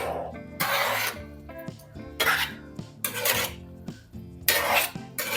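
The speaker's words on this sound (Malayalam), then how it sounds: "എല്ലാം കൂടെ നല്ലതുപോലെ ഒന്ന് മിക്സ് ചെയ്യാം." Curry being stirred and mixed in a pan, with four separate bursts of scraping and rubbing from a spoon against the pan, each lasting under a second and separated by short pauses, heard close.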